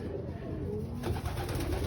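Pigeons coo softly inside a small backyard loft, low throaty calls rolling over one another amid a steady murmur of birds close by.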